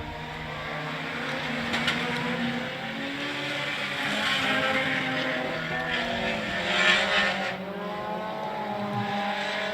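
Race cars in a heat race at Cotton Bowl Speedway roar steadily past, engines droning and swelling as they near, a continuous loud mechanical hum with no talk.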